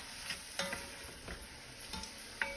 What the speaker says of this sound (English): keep stirring like that